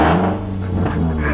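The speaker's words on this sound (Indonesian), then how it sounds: "Dengerin gue geber dikit nih ya." A Toyota Agya engine revs hard through an aftermarket full-system exhaust with a deep, throaty roar, loud and close, rising briefly before settling.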